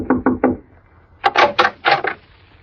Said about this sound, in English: I pulled up at the Shady Glade and knocked at the door of cabin number